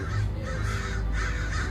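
Several crows caw repeatedly in harsh rhythmic calls, close and fairly loud, overlapping one another with no voices.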